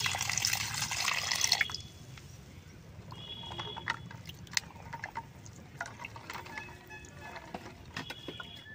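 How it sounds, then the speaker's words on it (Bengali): Jackfruit seeds being washed by hand in water, a brief burst of splashing and running water followed by quiet drips and small wet knocks, close and faint, with no talk. "এখন বিচিটা আমি পরিষ্কার করে ধুয়ে নেব।"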